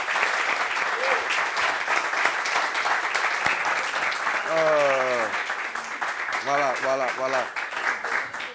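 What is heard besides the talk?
studio audience applause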